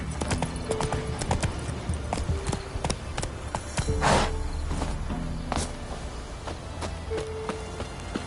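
Horse hooves clip-clop steadily across the ground in The Witcher 3: Wild Hunt on PS5, a brisk, regular trotting rhythm that stays close and fairly loud throughout, with faint game ambience behind it.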